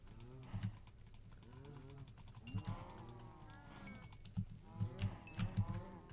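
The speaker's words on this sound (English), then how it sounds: "the cow crusher, which is where you put a bunch of cows into one block" Cows in a Minecraft cow crusher moo repeatedly in overlapping calls, a dense cluster of bovine lowing with several louder bursts near the end, alongside rapid clicking like keyboard typing.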